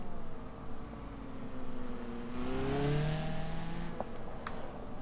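An AI-driven car in the video game BeamNG drives along and revs up, its engine note rising and falling in smooth sweeping tones over a steady background hum, with no voices.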